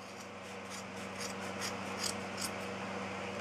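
Scissors snipping through wound yarn to make a pom-pom, a series of short crisp cuts in an even rhythm, close and fairly quiet over a steady low hum.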